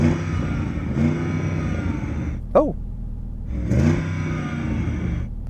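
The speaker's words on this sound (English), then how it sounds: "RSQ8, rev up your engine." An Audi RSQ8 sits idling with a deep engine rumble that swells twice in short revs, separated by a brief dip, heard close from inside the car with a short spoken exclamation in the middle.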